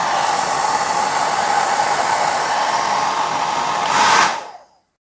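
A cheap AliExpress hair dryer blows on its minimum hot air setting, giving a steady broad whooshing hiss that stays constant and close, then is switched off and quickly winds down to silence.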